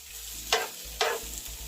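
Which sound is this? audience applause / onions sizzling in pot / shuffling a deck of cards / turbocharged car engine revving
onions sizzling in pot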